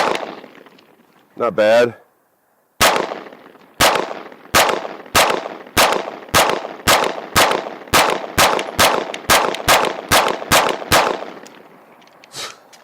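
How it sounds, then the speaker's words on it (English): A KOR FX-9 RP 9mm pistol fires about fifteen sharp, evenly paced shots at a cardboard target, loud and close, after a brief spoken remark, with a short comment afterward. "Let's see what I can pattern here on the cardboard target."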